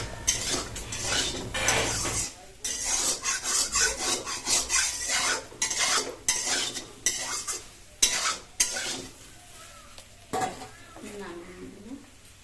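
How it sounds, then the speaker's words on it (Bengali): Whole garlic being stir-fried with soybean chunks in a pan, with steady scraping and clattering of a spatula against the metal and a light sizzle underneath, close and busy, then fading to scattered scrapes. "এখন আমরা রসুনটা দিয়ে এখন সুন্দর করে এটাকে একসাথে ভেজে নেবো"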